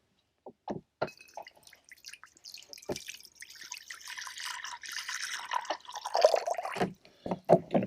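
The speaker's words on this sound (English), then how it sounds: "Water goes into the pot." Water pours into a cooking pot in a kitchen, starting with a few separate splashes and drips, then a steadier running stream with splashes near the end.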